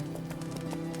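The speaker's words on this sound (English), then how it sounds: "Run, Roach" A horse gallops in The Witcher 3 video game, with a steady, rapid clip-clop of hooves close up over a constant low background hum.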